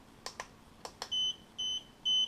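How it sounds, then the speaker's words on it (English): An external RF module plugged into a FrSky Taranis radio transmitter gives three short electronic beeps at an even pace, preceded by a few light clicks of handling. "you'll get a beep, and the module will start flashing"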